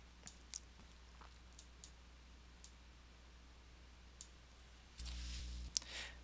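Crisp mouse clicks tick sparsely and irregularly on a quiet computer setup, about eight short clicks spaced apart, with a brief hum burst near the end.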